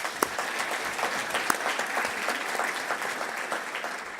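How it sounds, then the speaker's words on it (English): Welcoming applause from the audience at an Auckland panel discussion on homelessness as a panellist is introduced, a moderate, continuous patter of many hands clapping throughout. "Maybe give her a round of applause as well."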